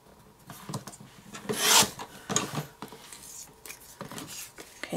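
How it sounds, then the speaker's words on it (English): Scissors or a trimmer cutting three-quarters of an inch off a paper Project Life journaling card, giving a series of dry rasping snips and paper scrapes, with one louder swipe near the middle, close and alone. "I'm going to take one of these and I'm gonna cut 3/4 of an inch off"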